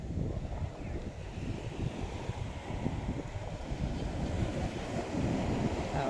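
Sea waves pushed along by strong wind wash in as a continuous, fairly faint surf rumble, with wind noise over it and people talking now and then.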